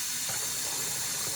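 Tap water runs steadily during a bath for three-week-old puppies, a continuous close hiss of flowing water with no voices.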